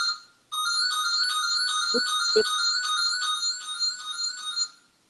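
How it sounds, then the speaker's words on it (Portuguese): A home telephone rings with a steady electronic trill that continues for about four seconds and then stops, fairly loud against a quiet room, with two brief low thumps partway through. "É o telefone da minha casa."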